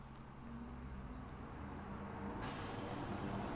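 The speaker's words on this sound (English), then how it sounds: "That's the garbage truck." A garbage truck rumbles outside as a steady, broad low roar with hissing, growing louder partway through, heard from a distance with no talk over it.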